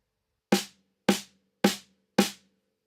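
Four evenly spaced snare drum quarter notes struck with the right hand, crisp and close, each hit ringing briefly before decaying to silence.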